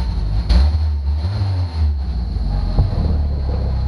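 Old $499 Jeep engine idling without a muffler, a loud, low, throaty exhaust rumble that stays steady with a few brief surges, heard close and alone without talk.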